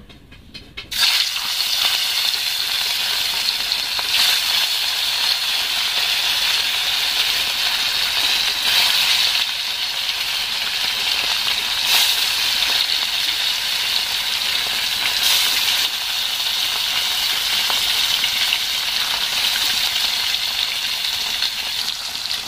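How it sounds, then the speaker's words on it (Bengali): Steady, loud sizzling of catla fish pieces frying in hot mustard oil, a continuous crackling hiss with occasional soft clinks, no talking. "মাছগুলো হালকা করে ভেজে নিতে হবে।"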